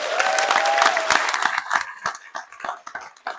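A convention crowd at a Star Wars panel breaks into applause with a few cheers and whistles, the clapping thinning out into scattered claps.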